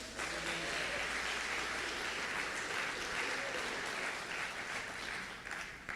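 Sustained applause from a church congregation at a Portuguese-language worship service, loud and continuous throughout, with faint voices mixed in.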